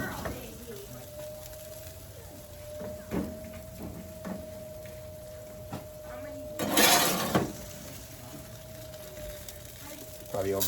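Beer-brined chicken wings being tossed in buffalo sauce in a bowl, with soft clatters and scraping of utensils against the bowl, plus one louder burst of sloshing and rattling midway, set under a steady background hum.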